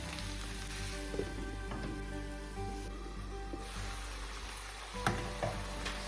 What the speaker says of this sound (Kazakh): Міне әдемі болып өзінің сөліне қуырылып жатыр